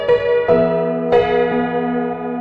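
Pianoteq software piano set to an aged, older character, playing a few struck notes and chords that ring out with a bright, bell-like decay, close and alone without voices.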